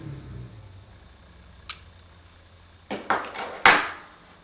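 Metal U-bolt hardware for a weather station wind boom gets handled, giving a single light clink followed by a cluster of sharp metallic rattles and clanks close by over quiet background.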